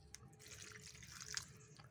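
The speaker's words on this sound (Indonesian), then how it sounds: "Jangan lupa kawan, kita siram air." Water is poured over a potted terrestrial fern, giving soft, faint trickling and scattered small drips in a quiet space.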